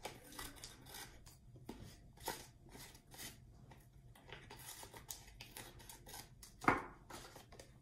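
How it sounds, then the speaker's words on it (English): Scissors snip off excess paper during a children's glue-and-paper craft, giving a few quiet, scattered cuts over a soft rustle, with one sharper, louder snip near the end. "take your scissors and snip off the extra"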